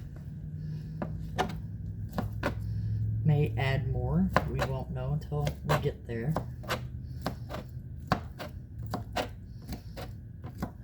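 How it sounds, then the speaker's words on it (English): Knife chopping bacon on a cutting board for collard greens, a rapid series of sharp, evenly spaced thuds close up, with people talking over part of it. "I'm gonna put 8 pieces of bacon in the collard greens by chopping them up."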